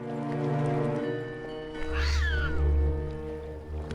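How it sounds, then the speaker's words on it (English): A demon cat in a horror video game lets out a single harsh, drawn-out meow over a loud, steady droning game soundtrack with low rumbling. "Be careful with that demon cat."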